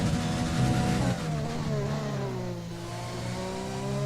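Simulated Formula 1 car engine from the F1 2020 racing game, heard onboard on a fast lap: a loud, continuous high-pitched wail rising and shifting through gears, steady and alone without talk.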